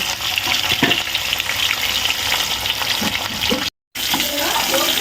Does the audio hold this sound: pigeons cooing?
no